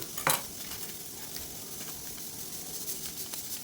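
Chicken being mixed with masala and red chilli in a pan, giving a soft steady scraping and stirring sizzle with one brief louder scrape near the start, close and continuous with no talk.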